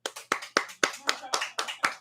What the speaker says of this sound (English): Let's sit back and just clap, gentlemen.